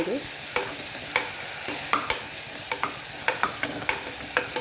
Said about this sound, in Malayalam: ഉള്ളിയും തക്കാളി സവാളയും തക്കാളിയും പച്ചമുളകും കുക്കറിൽ നന്നായി വഴറ്റിയെടുക്കുന്നുണ്ട്